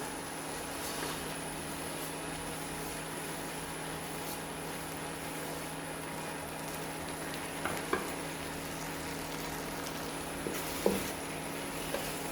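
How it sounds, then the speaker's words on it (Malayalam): A jaggery mixture fries in a pan with a steady, moderate sizzle and a faint low hum underneath, while a few soft utensil clicks mark the stirring. "നന്നായിട്ട് ഇളക്കി കൊടുക്കുക."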